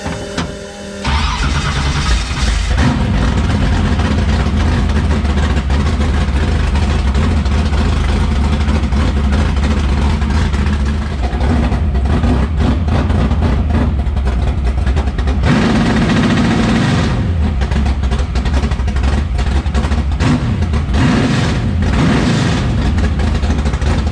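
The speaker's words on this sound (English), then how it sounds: "All right, I'm gonna fire this thing up." A race car engine fires up and runs loud and steady for the whole stretch, with revving surges as the two-step launch control is tested, all close and continuous.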